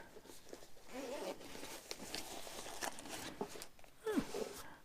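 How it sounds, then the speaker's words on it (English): A zipper on a small hunting-kit pouch is pulled in a few short rasping strokes, close by, with light handling and rustling around it. "We've got a zipper."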